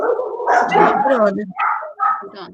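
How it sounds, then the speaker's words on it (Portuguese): Several dogs barking and yipping close by in excited, overlapping bursts, loud and continuous, with brief whimpering tones between the barks. "quem tem esse monte de cachorro? Cachorro aí"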